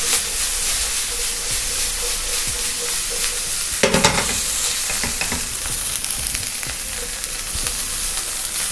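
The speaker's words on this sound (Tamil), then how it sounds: "லைட்டாக வதக்குனா போதும், குடமிளகா வந்து சீக்கிரம் குக் ஆகிடும்." Capsicum sautés lightly in a pan for quinoa tofu tacos, giving a loud, close sizzle and steamy hiss with scraping stirs and a sharp clatter near the middle, and no voices.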